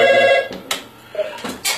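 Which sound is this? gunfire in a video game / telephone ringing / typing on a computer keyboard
telephone ringing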